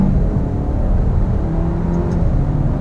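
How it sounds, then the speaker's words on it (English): A 2019 Alfa Romeo Giulia engine drones steadily and loud up close as the throttle rolls on, a continuous low rumble with no break or spoken words over it. "Gonna roll on the throttle second."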